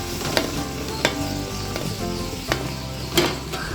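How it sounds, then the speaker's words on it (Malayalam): Shallot paste sautéing in a pan for chicken biryani, a steady close sizzle with regular scrapes of a spoon stirring about every half second. "ചെറിയ ഉള്ളിയുടെ പേസ്റ്റ് അത് നന്നായിട്ടൊന്ന് വഴറ്റിയെടുക്കാം"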